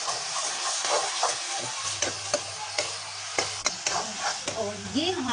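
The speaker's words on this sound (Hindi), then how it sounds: "ये मसाला हमारा भून चुका है।" Masala roasting in a pan for sarson ka saag, a soft continuous sizzle broken by repeated scraping strokes of a spoon and a low steady hum, with a voice speaking over part of it.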